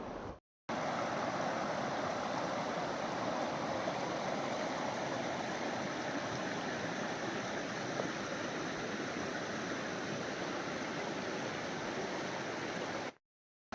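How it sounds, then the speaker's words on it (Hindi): The Narmada river flows in a continuous broad rushing murmur that stays steady and close for about thirteen seconds, with no voices. "मैया की जरा कलकलाहट आप लोग 1 मिनट के लिए जरा सुनिए दोस्तों"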